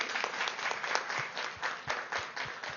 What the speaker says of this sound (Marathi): खूप जोरदार टाळ्या जोशी सरांसाठी